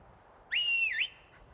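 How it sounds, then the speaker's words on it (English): A single sharp whistle calls a horse in the video game Skyrim, one rising and falling tone lasting about half a second, loud against a faint quiet background. "We do have the ability to whistle her and get her over."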